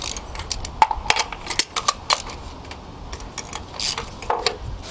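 A wrench breaks loose the spark plugs on a Honda K series engine, giving a series of sharp metallic clicks and ratchet ticks, close and fairly quiet, with short pauses between them.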